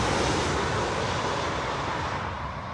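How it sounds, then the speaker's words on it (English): An Airbus A320 airliner roars past close by on runway 27 left at Heathrow, a loud, dense jet-engine rush that fills the whole moment and eases slightly toward the end, with no one talking. "That's an Airbus A320."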